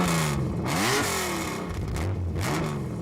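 A TVR T350 sports car engine revs hard and close, pitch climbing, dropping and climbing again through a few quick bursts with a raspy, throaty edge.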